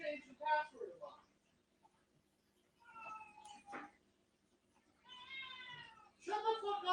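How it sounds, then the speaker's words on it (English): A house cat meows repeatedly in protest indoors, several drawn-out mewing cries close by, alternating with someone talking in between. "You hear my cat?"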